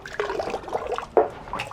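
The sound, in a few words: water filling narrowboat tank through collapsible pipe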